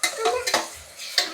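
Chicken frying in a pan for a chicken dry dish, with several distinct scrapes and clinks of a spoon stirring against the metal pan over a soft sizzle, close up with no talking.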